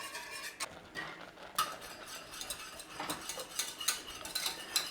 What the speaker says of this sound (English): All you've got to do is remember to give it a stir